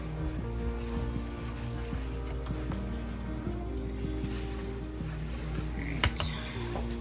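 Spoon mixing thick frosting into banana bread brownies in a pan, giving soft, steady scraping and squishing with a few light clinks near the end, close and unaccompanied by talk.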